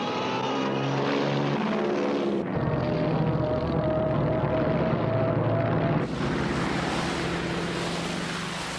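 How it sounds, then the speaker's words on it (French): Droning WWII propeller aircraft in the first attack wave over Midway island, a continuous loud engine roar with shifting pitch that cuts abruptly between shots, without speech. "une première vague d'appareils teste les défenses de l'île de Midway"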